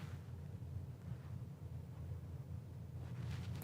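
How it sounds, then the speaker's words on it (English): Fan running at close range, giving a faint, steady low hum and airy whoosh that continues evenly throughout, without voices. "Ooh, that fan though."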